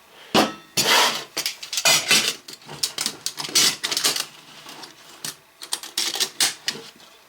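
An MSR Pocket Rocket 2 camping stove and a small gas canister being packed into a metal cooking pot, giving a run of loud clattering, clinking and scraping metal knocks in quick irregular bursts, close up with no talking.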